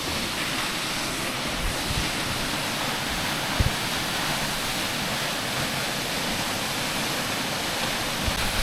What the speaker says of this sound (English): On the way to the Svartifoss Waterfall, there are two more waterfalls,